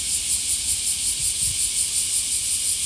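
Crickets chirp on a hot night in Japan, a dense, steady high-pitched trill that pulses evenly throughout, moderately loud and alone without speech.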